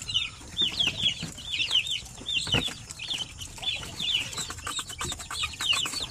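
A mother hen clucking low near her chicks, whose high repeated peeps chirp rhythmically throughout, close by under a warm brooding light.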